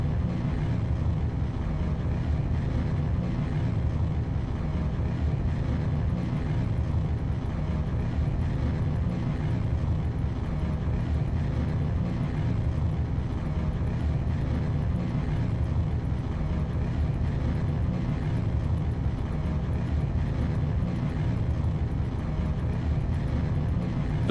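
Rocket engines throttling up at launch in Kerbal Space Program, a dense, unbroken roar that stays loud and steady throughout with no voices.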